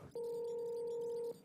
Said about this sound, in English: Oh, sorry, getting a phone call.